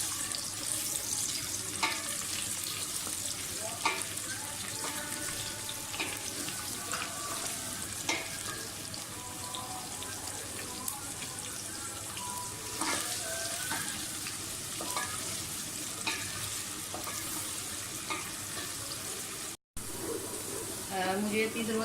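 Onions frying in hot vegetable ghee in a cooking pot, a continuous soft sizzle with occasional stirring scrapes and clinks throughout, fairly quiet.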